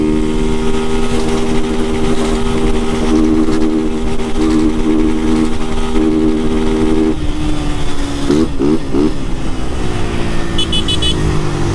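A Honda Titan 160 motorcycle with a tin exhaust revs hard and loud, its engine note rising and falling with repeated throttle blips near the microphone and no talking.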